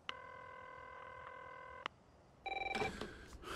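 Phone keypad tones beep steadily as a number is dialled, then cut off before a loud, rapidly trilling ring starts up close, with no talking.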